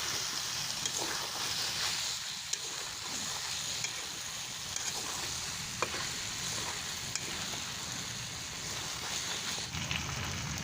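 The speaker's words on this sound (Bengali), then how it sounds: "লবণটা দিয়ে তেলের মধ্যে কিছুক্ষণ একটু ভেজে নেব" Salted mati alu, underground yam potatoes, frying in hot oil, a dense continuous crackling sizzle with occasional sharp pops and spatula scrapes throughout, steady and close, with no talking.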